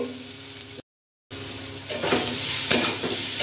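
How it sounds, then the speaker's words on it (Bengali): Potatoes fry in a little oil as a spatula stirs them, a close sizzling hiss with scraping strokes that intensifies toward the end, interrupted by a brief silent gap. "এই হালকা ফাটানো আলুগুলোকে আমি একটু নেড়ে দিচ্ছি"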